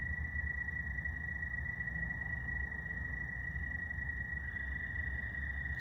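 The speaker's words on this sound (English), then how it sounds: "Hear that? Hear those frogs?" A steady night chorus of frogs and insects trills continuously at a distance, a high sustained tone over a soft low rumble, with no talking.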